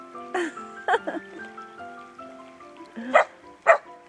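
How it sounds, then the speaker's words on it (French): A dog outdoors gives several sharp barks in irregular bursts, loud and close, with a person talking between the barks. "Oh, puis il y a un chien."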